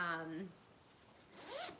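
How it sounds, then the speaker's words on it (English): A zipper on a travel bag is zipped in two quick strokes, close and fairly quiet, with a faint voice at the start. "it's great that it has a full zip across the top"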